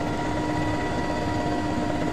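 A video game helicopter running close by, a loud, steady rotor drone with a constant engine whine and no breaks, with no voices.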